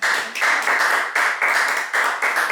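An audience at a community meeting claps for a speaker in a short burst of about ten seconds' worth of rhythmic, fairly even hand claps, moderately loud and without voices.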